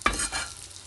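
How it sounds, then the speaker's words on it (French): Flatbread frying in a little oil in a pan as it is flipped, giving a short close burst of sizzle and a scraping clatter that quickly fades to a faint hiss. "درت شويه الزيت، درت الخبزه ديالي ونبقى نقلبها"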